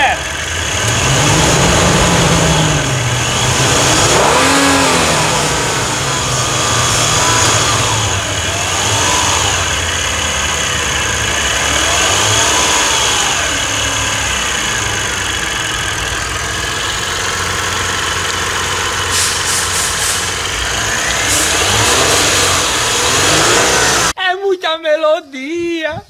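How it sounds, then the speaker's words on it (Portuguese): A Mitsubishi Pajero V6 engine is started and revved repeatedly, its loud rising and falling roars swelling close by over a steady running drone, with someone talking over it and a sudden cut near the end. "Esse urro do motor V6 não tem igual, né?"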